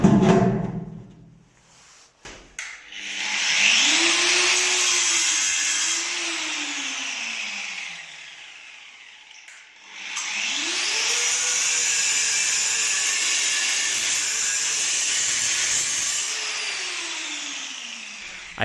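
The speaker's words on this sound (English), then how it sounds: "I used the angle grinder to cut it off" An angle grinder cuts through old rusty water pipes, whining loudly as its pitch dips and rises under load. Two long bursts are separated by a quiet pause.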